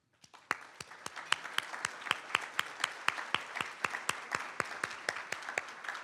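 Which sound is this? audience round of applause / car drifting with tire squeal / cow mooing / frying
audience round of applause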